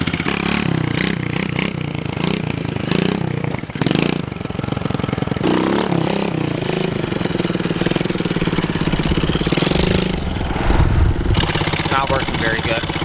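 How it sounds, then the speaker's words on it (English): A small pit bike engine revs loudly and repeatedly in a driveway during wheelie attempts, its buzzing note surging and dropping in bursts, close to the microphone, with a voice talking over parts of it. "I'm going to try to do some wheelies in the driveway here"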